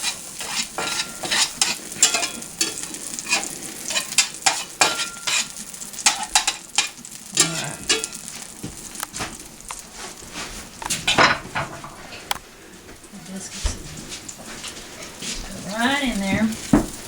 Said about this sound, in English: That butter kind of sizzles, but doesn't burn.